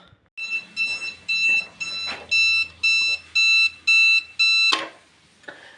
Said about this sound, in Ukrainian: Як то добре мати вдома е, цю Датчики диму.